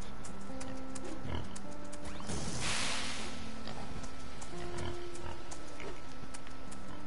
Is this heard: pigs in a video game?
yes